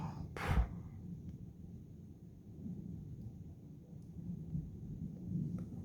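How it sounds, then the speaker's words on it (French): A strong thunderstorm in Alsace sends a sharp, fairly close crack of thunder, followed by a low, steady rolling rumble that lingers for several seconds under a faint background hiss. "il y a encore de bons coups de tonnerre, les amis"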